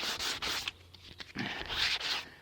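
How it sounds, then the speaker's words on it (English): Hand scuffing of a primed car bumper: short abrasive rubbing strokes in quick bursts with brief pauses, close and fairly loud. "Just a quick scuff."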